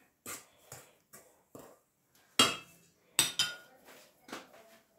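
Burger bun dough being stirred in a bowl after powdered sugar, yeast and salt go in, with close, irregular clinks and knocks of a utensil against the bowl spaced across a few seconds.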